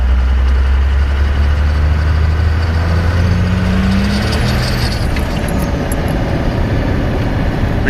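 Turbocharged Ford F150 truck pulling hard in third gear: a loud, deep engine rumble for the first few seconds, then a rougher, wider roar with cabin rattle as the tyres break loose on slightly wet ground.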